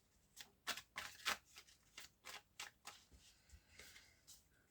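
Tarot cards are shuffled for a nine-card reading, giving soft, quiet riffling bursts in quick, uneven succession, close by and without speech.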